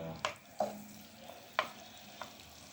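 Butter melts and sizzles in a cooking pot as onion is added, heard as a faint low sizzle broken by several distinct stirring scrapes and clinks at an irregular pace.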